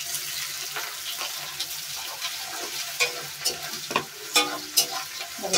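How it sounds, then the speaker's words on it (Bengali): Onion and tomato with spices fry in a wok, a constant close sizzle broken by repeated scraping stirs that grow louder and more frequent toward the end. "দেখো পেঁয়াজটা ভাজা হচ্ছে, দেখো পেঁয়াজটা ভাজা হচ্ছে কড়াইতে।"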